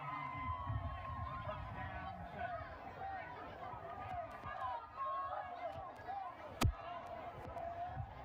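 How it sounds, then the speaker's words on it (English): Crowd at a high school football game, Marion vs Sedgwick, a steady murmur of chatter and hubbub filling the stands, with a sharp thump near the end, under no clear foreground voice. "Warrior crowd getting a little impatient"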